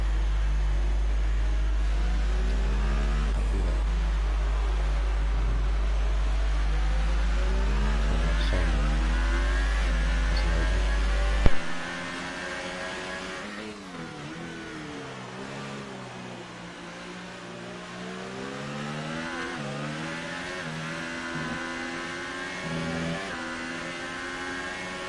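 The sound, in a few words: F2 race car engine drifting around a corner in a racing video game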